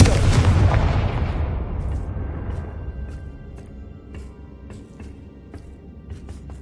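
Confringo blasting spell explosions in the video game Hogwarts Legacy: a loud, booming blast opens and decays over a few seconds into a low rumble, followed by faint scattered crackles.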